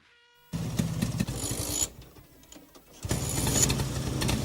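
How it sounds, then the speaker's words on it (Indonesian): A motorcycle engine starts in an audio drama, a sharp burst of mid-low engine noise that runs briefly, dips, then swells again into a steady running rumble, close and fairly loud. "Boy langsung menyalakan mesin sepeda motornya dan mulai berjalan mengantar Maya."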